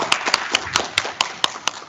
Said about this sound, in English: I just really want to give you guys another round of applause